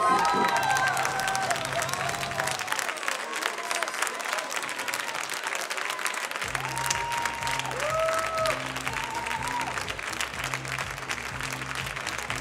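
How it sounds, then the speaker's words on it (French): Loud, sustained applause from an audience at the 2019 French Brewers Cup coffee championship awards ceremony, crowd clapping and cheering steadily for the vice-champion while music plays underneath for the whole stretch. "Je vous demande de donner une tonnerre d'applaudissements pour notre vice-champion, Joachim Morceau."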